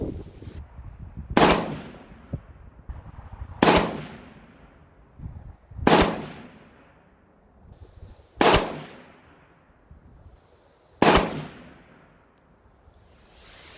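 A PSA 6.5 Grendel rifle fires five sharp shots outdoors at a windy range. Each loud report is spaced about two to three seconds apart and decays quickly over a low wind rumble, with no talking.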